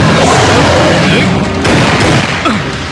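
A loud, dense burst of booming explosive noise with crackling debris, sustained and harsh throughout.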